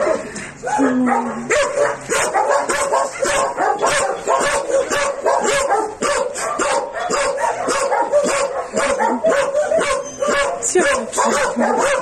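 A dog barks and whimpers up close in a rapid, repeated string of yips and whines that continue throughout, loud and insistent.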